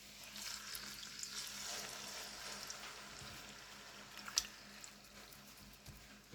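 Six chicken thighs sizzling steadily in a hot pan for a sear, a dense even hiss throughout with a few brief louder pops and spits, no voices.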